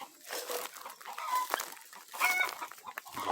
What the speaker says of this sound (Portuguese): Galinha de Angola, como tem gente que chama. Na nossa região é cocá.